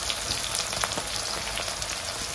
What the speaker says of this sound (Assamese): পিঁয়াজখিনি ভাজি ল'ম এতিয়া